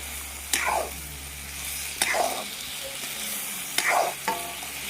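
Mixed vegetable curry with salt and turmeric is stirred in a pan, three distinct scraping strokes about every second and a half over a constant sizzle and low hum, close up with no talking.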